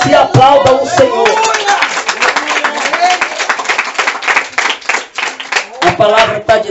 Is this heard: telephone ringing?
no